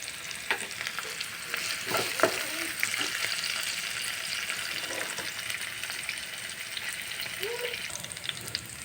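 Steady crackling sizzle of spices and green chillies tempering in hot oil for a fish curry, with occasional spoon scrapes against the pan, close and continuous.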